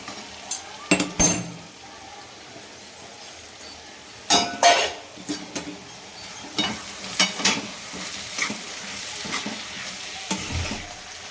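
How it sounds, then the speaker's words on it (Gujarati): Dry onion sizzling as it is stirred and roasted in a pan for green turmeric curry, with a spoon scraping and clinking against the metal in bursts over a steady frying hiss. "સતત વસ્તુ બધી બે અને ત્રણ ત્રણ મિનિટ સુધી હલાવતું જવાનું ને શેકતું જવાનું"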